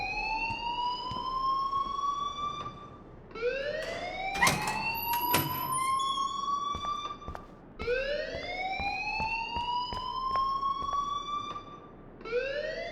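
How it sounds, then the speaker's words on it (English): A fire alarm in the video game Life is Strange blares as a rising electronic siren that sweeps up and holds, repeating in three long cycles, loud and alone, with a few sharp clicks and clatters between. "please turn off that alarm since that's your job"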